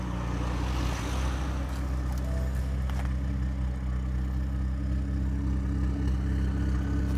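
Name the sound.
BMW 135i stage 3 engine starting and idling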